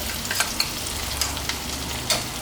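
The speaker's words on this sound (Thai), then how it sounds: "พริก หอมกระเทียมแล้วก็กะปิที่เรา ตำไว้เมื่อสักครู่ลงไปผัดนะครับ" Pounded chili, shallots, garlic and shrimp paste stir-fry in a pan for Thai roasted chili paste, with a steady close sizzle and occasional light scrapes of the stirring utensil.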